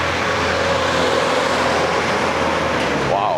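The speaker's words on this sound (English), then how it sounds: "Wow, that's a loud truck." A loud truck rumbles past on a street in Da Nang, a dense steady engine roar filling the whole stretch close by, with a rising tone near the end.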